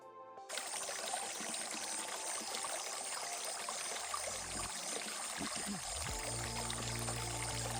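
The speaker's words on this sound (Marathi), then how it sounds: "पाणी भरताना आणि ही आहे जिवंत पाण्याचा झरा" Water from a natural spring pours steadily into a container being filled, a continuous close splashing rush, with a few brief clunks of handling near the end.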